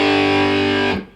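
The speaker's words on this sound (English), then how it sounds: "in this chord sequence I'm going to use distortion for this" Electric guitar power chord played through distortion, one thick sustained chord ringing loudly and evenly before being cut off abruptly near the end.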